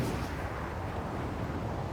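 A naval unit attacks a submarine in Civilization VI, producing a faint, muffled rumble of booming artillery fire that stays steady and low throughout.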